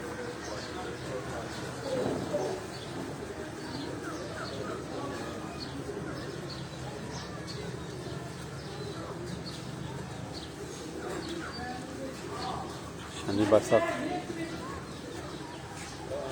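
Pigeons coo on a rooftop while they are fed, soft repeated calls sitting beneath steady nearby talk and background noise, with a brief louder burst toward the end.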